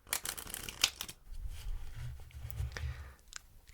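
Playing cards are shuffled up close, a crisp riffling burst followed by softer sliding and cutting sounds, with no talking.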